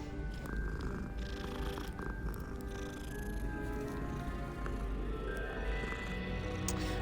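A cat in the Hogwarts Legacy video game purrs steadily as it is petted, a soft continuous rumble over the game's ambient background, with no talking.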